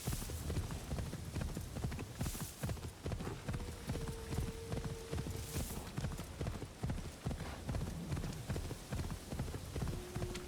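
Rhythmic horse hooves clip-clop steadily while riding through Assassin's Creed Shadows on a PS5 Pro, mixed with continuous game ambience and a few faint tonal sounds.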